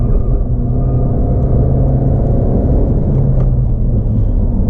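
A 2018 Suzuki Swift Sport on a lap of Luddenham Raceway, the steady loud cabin drone of the engine and road rumble held at constant pace throughout, with no talking.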